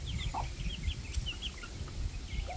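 A rooster, father of a brood of chicks, clucks and crows in short calls over a low background rumble, fairly close and steady throughout.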